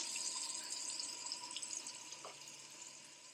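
Tap water runs steadily over a child's fingers at a sink, a continuous soft hiss that fades a little toward the end, with no talk.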